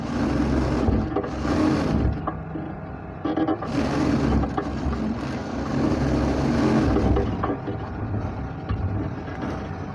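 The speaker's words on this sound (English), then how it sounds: "So I will run double stitch on this area." A sewing machine runs a double stitch along the crotch seam of trousers, its motor whirring in steady bursts that pause briefly and start again, loud and close with no voices.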